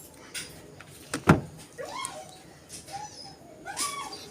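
A dog indoors gives a sharp bark followed by several high, drawn-out whimpers and whines, fairly close but not loud, over faint background noise.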